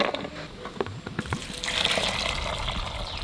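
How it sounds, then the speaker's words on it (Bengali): Water poured into a pot of husked corn set to boil, a near splashing stream that starts after a few drips and knocks and then fills steadily to the end. "বেশি জল দেবো না, ভুট্টাগুলো ভিজবে সেরকম জল দেবো।"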